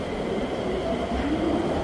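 A train passes as a steady, fairly quiet rumble of wheels and carriages, continuous throughout with no voices.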